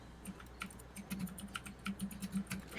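Someone types aggressively on a computer keyboard, a quick, uneven string of sharp clicks with small bursts. It sounds fairly quiet and close, and no one talks over it.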